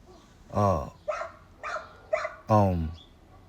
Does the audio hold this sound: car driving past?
no